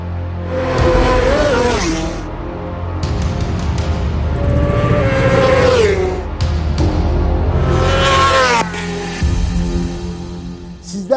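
Racing motorcycle engines at the Isle of Man TT road race, loud high-revving screams rising and falling through gear changes as bikes blast past close by, with brief drops between runs.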